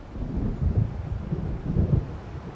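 Rumbling thunderstorm in the video game Alan Wake Remastered, with deep rolling thunder swelling in two waves over steady rain and wind, close and continuous, no voices.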